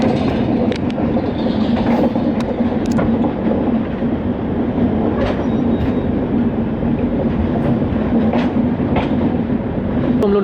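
The Kathgodam Shatabdi Express runs at speed near Haldwani, a loud continuous rumble of rolling rail cars with scattered wheel clicks and squeals throughout, close and unbroken.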